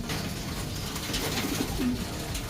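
Racing pigeons in a loft coo softly, low murmuring calls rising a few times over a steady background hum, fairly close with no voices.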